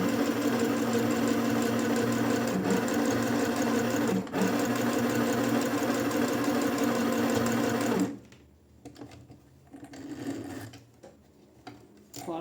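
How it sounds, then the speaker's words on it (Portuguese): A domestic sewing machine stitches fabric for a quick bag, running loud and steady for about eight seconds, then stopping, followed by quieter handling noises. "Venho aqui, encaixo o tecido, abaixo a sapatilha, retrocesso,"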